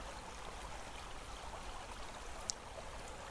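Water flows in a soft, continuous stream, a faint even rushing with one brief bright drip or splash partway through and no voices.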